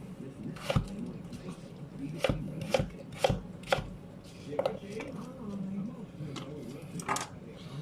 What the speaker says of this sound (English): you can cut the potato however you like